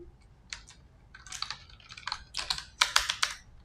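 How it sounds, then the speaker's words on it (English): Quick bursts of typing on a computer keyboard, close and fairly quiet, with irregular clusters of key clicks building in density toward the end. "Let me type it out for that quickly."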